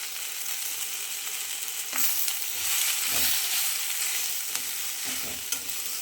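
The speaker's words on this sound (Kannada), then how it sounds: "ಒಂದು ಅರ್ಧ ಚಿಪ್ಪು ತೆಂಗಿನ ತುರಿ ಇದನ್ನು ಫ್ರೈ ಮಾಡ್ಲಿಕ್ಕೆ ಹಾಕಿದ್ದು" Half a shell of grated coconut frying in a pan with coriander and spices for chicken curry masala: a close, steady sizzle broken by a few scraping stirs, with no voices.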